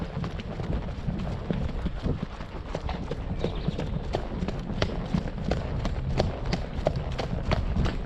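Steady, rhythmic clip-clop of hooves trotting close by, continuous throughout.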